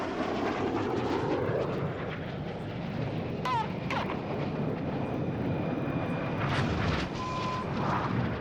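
RAF Red Arrows jet aircraft roar past loudly in a sustained, broad rush of engine noise that swells and holds for several seconds, with no talk over it.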